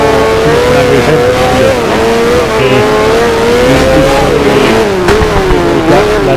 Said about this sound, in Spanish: Está el Ferrari de Gunther, el Matra de Henry Pescarolo. Veis como suenan diferentes